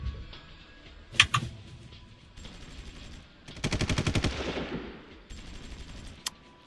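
Gunfire from the strategy game Supreme Ruler Ultimate: a sharp burst, then a rapid machine-gun rattle of evenly spaced shots, with a short later volley and a final single crack over faint game ambience.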